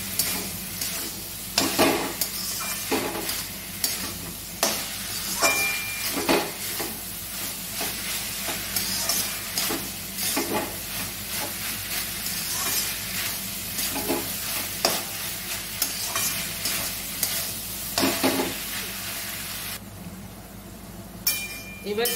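Spice masala stirred and fried in a pan for a Maharashtrian matki dish: steady sizzling with repeated scraping stirs and occasional light clinks, close and continuous throughout.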